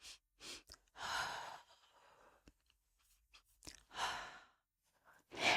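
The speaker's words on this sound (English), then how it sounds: "the rhythm is actually 2 short inhales and a long exhale" A person does breathwork with two short inhales and a long exhale, heard close and clear in a quiet room. Brief sniffing intakes are followed by a long, soft breath out, repeating in a clear rhythm.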